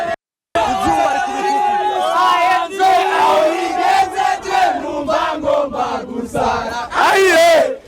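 A crowd of young men at an airport shouting loudly, energetic overlapping yells and chants that swell and recede in waves, with a louder surge near the end.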